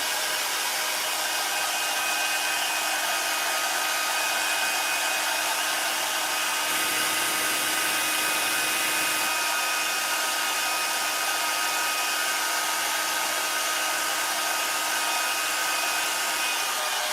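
A hair dryer on its cool setting blows steadily over sprinkled donuts, a constant loud whooshing motor roar that holds unchanged for the whole stretch with no voices.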